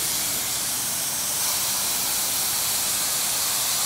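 Steady, loud hissing spray from a carpet cleaning machine applying a low pH rinsing agent to a wool carpet, an even bright rush that continues unbroken throughout.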